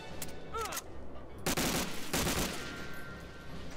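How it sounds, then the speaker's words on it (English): Machine gun nest fire rattles in Medal of Honor Airborne, with a couple of sharp bursts and then a sustained dense volley of gunfire under game sounds, loud and close. "that's a machine gun nest up there"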